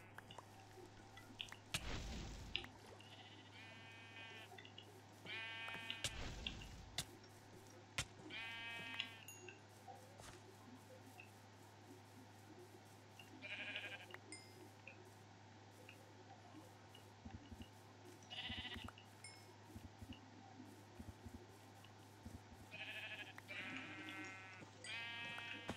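Sheep in a modded Minecraft 1.7.10 world bleating now and then, several separate calls at varying distances over a faint steady hum, with brief clicks and thuds between them.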